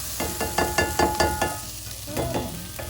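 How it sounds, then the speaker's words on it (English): Garlic sizzles in a hot pan with a steady frying hiss, broken by a quick rhythm of about a dozen stirring scrapes and clacks heard close up. "Hear that sizzle now?"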